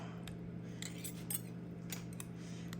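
A butter knife stirs in a jar of packed French-cut green beans, giving soft, close metallic clinks and scrapes against the glass in quick, irregular taps.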